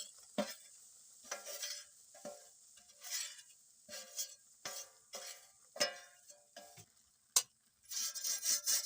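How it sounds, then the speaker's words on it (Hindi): Gram flour roasting in hot ghee, stirred in a pan for a winter jaggery barfi, gives soft sizzling scrapes in short repeated bursts with brief pauses between strokes, close and fairly quiet, with no talking. "हमें इस तरह से बेसन को भूनना है"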